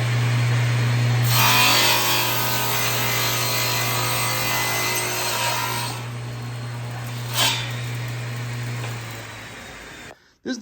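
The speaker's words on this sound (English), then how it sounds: "cut them both again at the same time" A miter saw cuts two stacked wooden frame pieces at once, with a loud sustained cutting roar lasting several seconds before spinning down, for an Arcade1up Infinity Game Table makeover.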